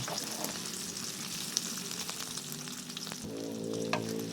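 Leftover garlic longganisa sausage sizzles and crackles steadily in a hot pan, with a brief stirring scrape and a rise in the frying hiss toward the end.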